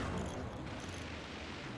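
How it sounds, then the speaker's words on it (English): Cannon fire from a battle in the RTS video game Forts forms a dense, continuous rumbling barrage of overlapping booms, loud and steady with no talk over it. "Lots of cannon shots coming in here."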